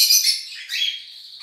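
Small cage birds at a breeding aviary give bright, high chirps and twitters in quick overlapping bursts, close and clear, with no talking.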